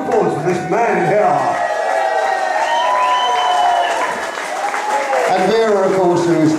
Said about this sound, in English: Have a round of applause for this man here.